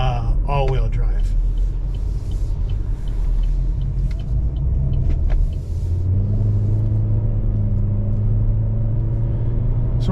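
A 2022 Chevrolet Trax LT AWD on the road gives a loud, constant low engine and tyre rumble heard from inside the cabin, with the engine tone rising as it accelerates on a straight.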